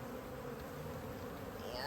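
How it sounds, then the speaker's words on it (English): A steady, dense buzz of honey bees humming close by, continuous and fairly faint with no pauses. "there's tons of bees in there"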